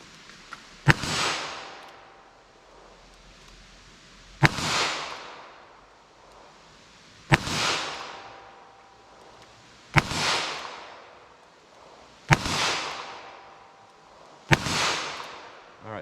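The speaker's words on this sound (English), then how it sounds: "So let me just fire slowly, see where these hit." Six sharp .22 WMR handgun shots fired slowly at a target outdoors, each a loud crack with a trailing echo, spaced about two to three seconds apart.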